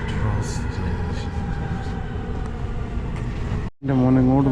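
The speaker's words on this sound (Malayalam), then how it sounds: "Metro station." A Riyadh metro train at a station, its low steady rumble and hum filling the space before cutting off abruptly, followed by a voice speaking.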